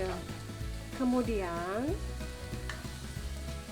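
Soup leaves and spring onions being stir-fried in a pan, a steady sizzle with stirring, while someone speaks briefly over it.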